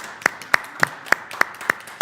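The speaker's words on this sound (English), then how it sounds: "Small applause." Small, sparse applause after a talk on library rooms: about seven crisp, evenly spaced claps roughly a third of a second apart, close by and heard alone with no voices.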